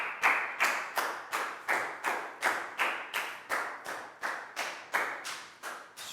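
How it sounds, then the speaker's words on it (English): A small classroom group of children claps in a slow, even rhythm for a student, about fifteen distinct unison claps spaced roughly every half second, moderately close and alone. "Big round of applause for Net."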